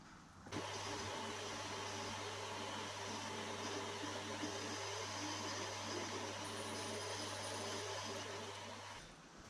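A lathe turns down the long shank of a homemade slitting saw for a mill, running as a steady mechanical hum with a low tonal drone that starts and stops abruptly, with no talking.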